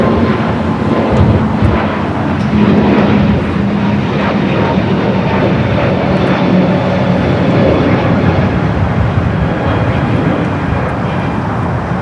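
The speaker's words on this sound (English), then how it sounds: "777 at 200ER heading back to Vienna, making that left-hand turn onto taxiway Bravo." An Austrian Boeing 777-200ER in Johann Strauss special livery taxis at LAX, turning onto a taxiway, its jet engines giving a steady, loud, broadband rumble and whine that holds evenly throughout without speech.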